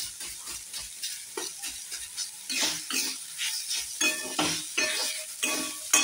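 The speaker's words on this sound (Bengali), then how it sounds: "রসুন দিয়েছি তো, ওই জন্য একটুখানি নেড়ে নিলাম" Garlic, ginger and green chilli being stirred in a frying pan for fenugreek-leaf paratha filling, with repeated scraping strokes of a spatula against the pan over a light sizzle, close and moderately loud, no talk.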